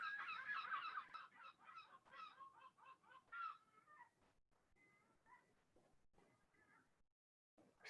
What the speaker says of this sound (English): Seagulls flying overhead, they're a long way from home.